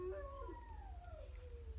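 Dogs howl in long, wavering, gliding tones while a train passes, with a low rumble underneath; the sound is faint and heard at a distance.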